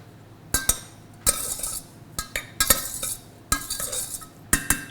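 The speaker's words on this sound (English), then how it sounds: "And then we'll give that a stir." A spoon stirs maple syrup into tart filling in a bowl, making a run of sharp clinks and scrapes in irregular bursts, close and clear, without talking.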